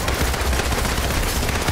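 Rapid, continuous bursts of gunfire in Marvel's Avengers, loud and dense like automatic weapon fire, with no voices.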